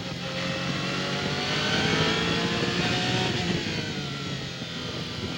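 Audi and BMW sports prototype race cars lap Sebring in the 1999 Twelve Hours, a steady droning engine roar with rising and falling pitch, moderately loud and continuous, heard alone without talk.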